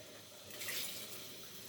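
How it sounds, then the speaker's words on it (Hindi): Water is poured briefly into a pot of okra chicken curry, a short soft splashing gush that swells and then settles into a faint trickle, quiet and close. "इसलिए हम इसमें हल्का सा पानी डालेंगे"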